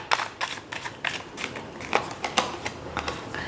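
Playing cards are drawn and handled in a quick series of crisp, papery flicks and slaps, about a dozen close-up taps at an uneven rhythm over low room noise.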